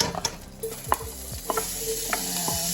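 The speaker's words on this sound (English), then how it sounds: "Cook the ham up. There's about 8 minutes. You want it kind of brown and crispy." Ham frying in olive oil in a pan while being stirred, with a soft steady sizzle under intermittent scraping and clacking stirring strokes, fairly quiet and close.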